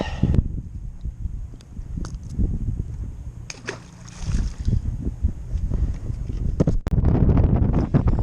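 Wind gusting across a private bass pond during fishing, a steady low rumble and buffeting against the microphone, with small splashes and handling noises throughout.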